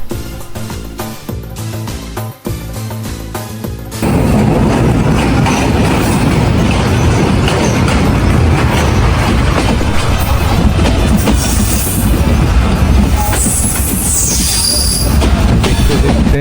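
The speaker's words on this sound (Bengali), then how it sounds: "সূর্যাস্তের রক্তিম সূর্যকে সাথে নিয়েই আমাদের ট্রেন ছুটে চলেছিল তার নিজ গন্তব্যে" A train runs along rails near Darshana station in Bangladesh at sunset, a steady loud rumble of wheels and carriages that grows denser after a few seconds, with squealing and rattling throughout and no talk.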